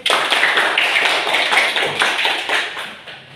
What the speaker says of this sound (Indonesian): tepuk tangan untuk Arif